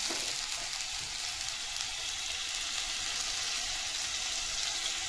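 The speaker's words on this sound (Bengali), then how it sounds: "যে মশলাটা পেস্ট করেছিলাম একটু দিয়ে দিলাম।" Spice paste frying in plenty of hot oil, giving a steady, soft sizzle that runs evenly throughout with no speech over it.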